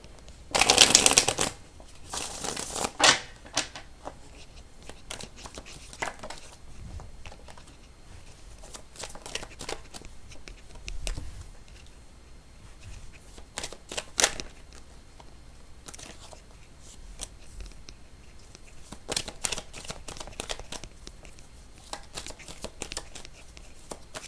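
Tarot cards are shuffled in quick riffling bursts, loud at first and then in softer intermittent flurries with pauses between.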